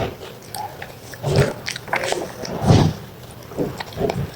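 A white pet dog bites and chews pieces of chicken up close, giving wet, irregular crunching and gnashing bursts that come and go over several seconds.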